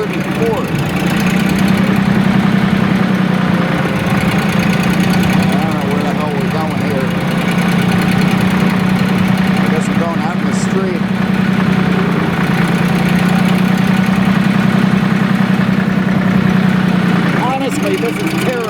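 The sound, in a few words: Porsche tractor engine running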